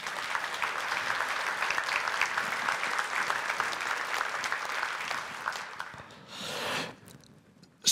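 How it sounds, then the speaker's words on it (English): Audience applause at an energy industry conference, a steady broad clatter of clapping sustained for several seconds before thinning out, followed by a brief swell of cheering or murmuring near the end. "Can we give our translator a round of applause?"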